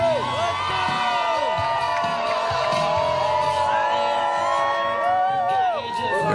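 A university football crowd cheers and whoops as they await President Trump's arrival at the Iowa vs. Iowa State game, with a dense, steady roar of many voices and some shouting throughout.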